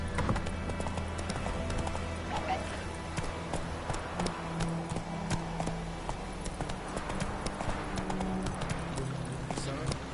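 Roach, the horse in The Witcher 3, gallops with steady rhythmic hoofbeats over a constant game soundscape, while a voice urges it on.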